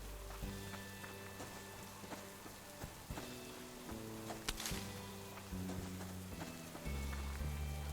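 Rain falls steadily in the survival video game Subsistence, a constant hiss under low droning background music with a few sharper drop-like ticks.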